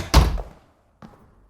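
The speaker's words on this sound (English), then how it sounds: "Shut the door." A door is shut with a solid close thunk followed by a fading rattle, then a second softer knock about a second later, with quiet room tone in between.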